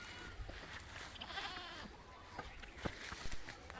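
Small, faint bleats from a newborn goat kid on a village goat farm, several short cries scattered through the clip against a noisy outdoor background.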